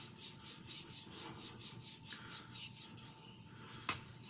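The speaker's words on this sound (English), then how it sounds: "I tend to spend not a lot of time using this stone when I'm in sharpening progression" A Cold Steel Broken Skull knife with a CTS XHP steel blade is drawn across a sharpening stone in quiet, rhythmic rasping strokes, with a few sharper scrapes standing out, close and soft.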